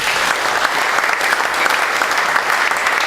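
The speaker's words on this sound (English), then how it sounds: "Can I get a round of applause for these hardworking young people?" Audience at a sports hall of fame press event applauding high school honorees, loud, close, continuous clapping that holds steady for the full few seconds with no voices over it.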